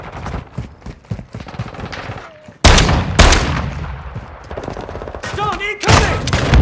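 Shotgun blasts in a shooter video game come loud and close as several sharp booming shots in quick bursts, with game sound effects between them and faint voices.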